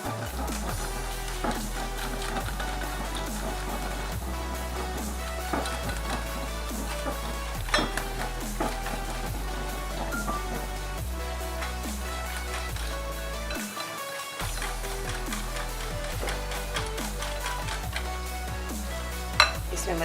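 Flour is whisked bit by bit into fish-and-chips batter in a bowl, giving steady clinks and scrapes of utensil against dish over a loud, constant low music bed, with no talk.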